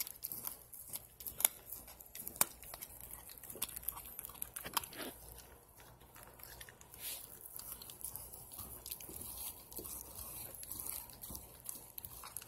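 A dog eats a raw-food BARF meal, chewing and crunching wetly up close in irregular bites and crunches, with scattered sharper cracks among softer mastication; no talk.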